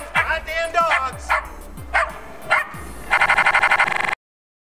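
Dogs at a junkyard bark loudly and nearby, several sharp yips and barks in a row ending with a rapid burst, while a person talks over them.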